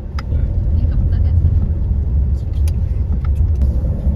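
A fully loaded 2021 Tata Safari driving over a broken, dusty road, with a loud continuous low rumble and occasional knocks and rattles from bumps, while a person talks over the engine noise.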